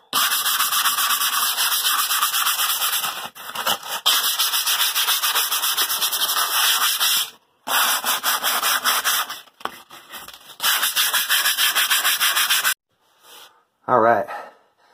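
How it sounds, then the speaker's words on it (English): Hand sanding of filled putty with 150 grit sandpaper during an RV remodel, a steady dense rubbing scrape in long sustained strokes with brief pauses, close and fairly loud, ending with a short quieter bit. "I got all my putty sanded down"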